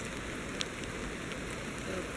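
Steady rain falls at a campsite during a gold prospecting trip in Tyndrum, a soft continuous patter of drops on a surface with faint scattered taps, quiet and even throughout.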